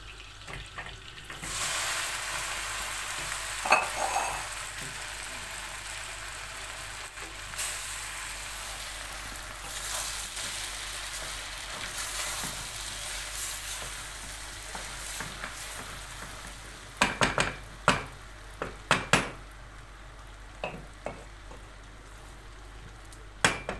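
Butter melting in a pan gives a steady, close sizzle for most of the stretch, with a few sharp clinks and scrapes near the end.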